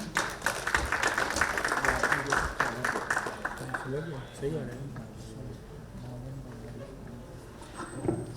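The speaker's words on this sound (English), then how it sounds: "May I have a big round of applause for him?" Summit audience applause rises and fades over the first few seconds, then gives way to someone speaking into a microphone as scattered claps trail off beneath his voice.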